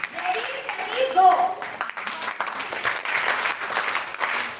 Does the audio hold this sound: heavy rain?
no